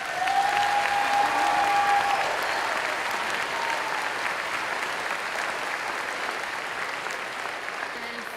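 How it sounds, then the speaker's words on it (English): Sustained applause from a large crowd at a school Veterans Day program, a broad, continuous wash of clapping, loudest at the start and easing slightly over eight seconds, with a brief whistle-like tone early on. "Let's give one more round of applause for our veterans."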